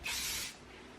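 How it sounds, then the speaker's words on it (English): Strong hold hairspray bursts from a can onto hands in one short, close hiss lasting about half a second, then cuts off to quiet room tone. "I'm actually going to use quite a strong hold hairspray and spray it onto my hands"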